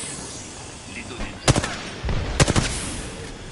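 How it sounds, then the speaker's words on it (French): Two short bursts of rapid gunfire ring out in the video game Apex Legends, about a second apart, loud and sharp over a low background hum. "Je me fais tirer dessus"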